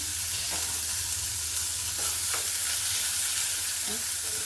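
Chopped onion and curry leaves sizzle in hot oil with mustard seeds. There is a steady, fairly loud frying hiss throughout, with a few faint stirring scrapes and no talk.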